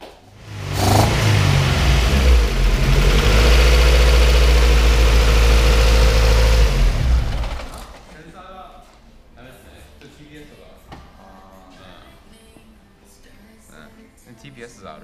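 A car engine with a suspected throttle sensor fault roars loud and rough for several seconds, then drops to a faint uneven idle under talking.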